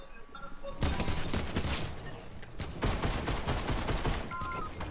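Rapid pistol gunfire in a video game, a dense burst of loud shots running almost continuously across the clip with brief gaps, no talking over it.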